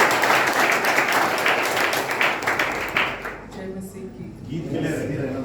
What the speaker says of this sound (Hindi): थोड़ा जोर से हम लोग तालियां बजाएं